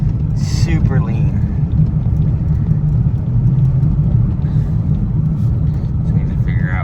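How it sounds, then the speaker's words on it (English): Engine of a 2003 Toyota Tundra running lean and pinging under throttle, a dense, close rumble at steady volume with faint rattling over it. "It is pinging really hard when you give it any throttle."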